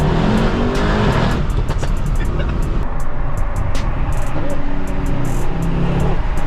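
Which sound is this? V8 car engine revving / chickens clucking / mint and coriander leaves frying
V8 car engine revving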